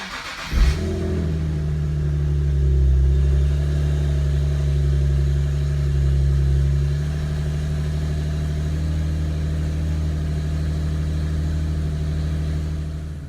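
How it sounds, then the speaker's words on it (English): A Nissan 370Z engine cranks and fires after an oil change, catching with a quick burst, then rising briefly before settling into a steady, deep, close idle that hums on with a slight fluctuating rev. "start up the car and see if there's any oil leak underneath the car"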